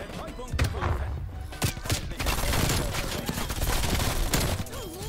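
Rapid bursts of gunfire from a weapon in the shooter game Black Ops Cold War, loud and dense, with repeated volleys and thuds running almost continuously.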